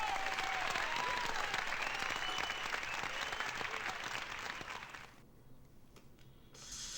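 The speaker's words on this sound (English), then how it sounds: "I like how long the cheering is for birdie." Sustained crowd cheering and applause in a golf video game after a birdie, a dense, steady roar that carries on for several seconds before cutting off abruptly, then a faint return.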